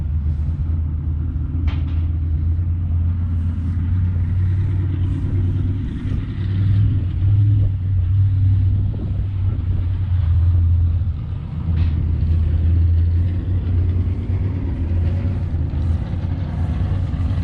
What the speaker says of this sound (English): Good running tractors right here.